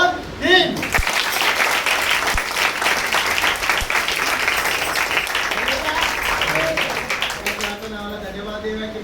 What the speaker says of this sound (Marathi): तर टाळी कशी वाजली पाहिजे? पहिल्यापेक्षा जोरात.